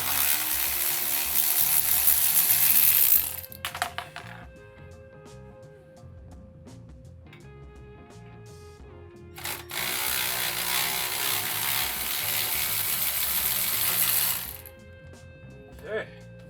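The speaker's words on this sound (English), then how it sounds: "now I'm going to just whiz them off with the old ratchet" A ratchet spins off brake caliper bolts on a GMT800 Chevrolet Silverado during a four-piston brake swap. Two long, loud whirring bursts of several seconds each are separated by a quieter stretch of tool handling.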